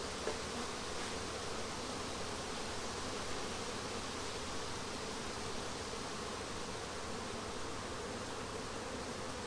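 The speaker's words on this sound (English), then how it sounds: "And now it's simply a matter of shaking down the bees." A steady, dense buzzing of many honey bees being shaken down through a funnel, continuous and close, with no pauses or voices.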